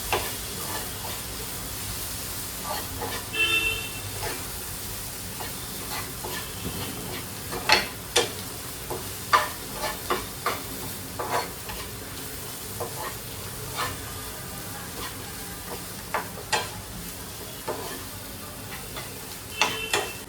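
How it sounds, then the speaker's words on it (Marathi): Spices sautéing in a pan for mushroom masala bhaji, a soft steady sizzle broken by frequent sharp scrapes and clacks of stirring, close and moderately quiet. "यांना पूर्ण मसाले चांगले परतून घ्यायचे."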